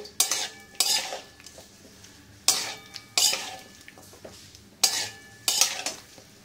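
Shukto vegetables stirred in a pan, close bursts of spatula scraping and clattering against metal, several rhythmic strokes separated by short pauses, over a faint sizzle.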